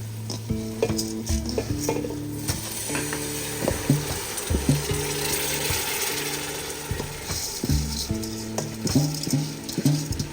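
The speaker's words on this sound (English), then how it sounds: "put the rice in. And what you want to do is mix it, stir it." Rice stirred into a pot of curry and seasoning, with steady scraping and clinking of a utensil against the pot over a continuous sizzle, close and fairly loud throughout.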